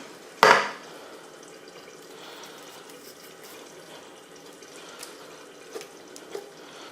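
Tinned beans tip from a can into a pot of chilli con carne with one short, wet, sloppy splat, followed by quiet faint clinks and a low simmering background.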